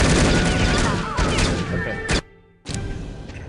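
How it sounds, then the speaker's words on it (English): Dense, loud gunfire in the video game No One Lives Forever, rapid overlapping shots and bursts that cut off abruptly and then resume, with a voice speaking briefly. "Who is shooting at me?"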